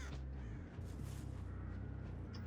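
Crows cawing in the Dead by Daylight video game, a harsh repeated cawing partly buried in a dense, steady wash of in-game ambience.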